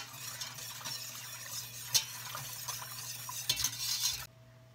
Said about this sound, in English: so we're gonna get that in there, whisk it, get all the lumps out